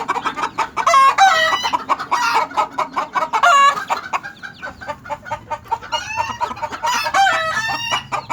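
Backyard chicken flock with Silkies, Sultans and a rooster at a chicken ranch in Tijuana: close, busy clucking and cackling with repeated crowing, no talk.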